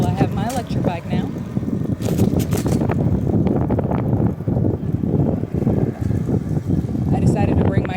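Steady wind rumble buffets the microphone while riding an electric bike outdoors, running continuously beneath a voice talking throughout.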